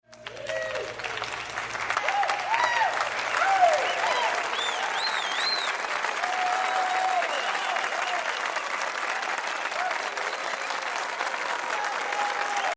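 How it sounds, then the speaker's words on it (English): Sustained applause from a large audience, steady and loud throughout with a few cheers and whistles rising above the clapping. "You deserve all the applause."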